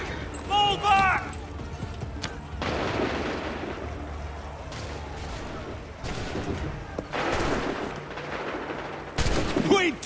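Musket volley in the video game Assassin's Creed III, gunfire bursts cracking over a battlefield din with horses and shouting, while voices call out orders over the noise.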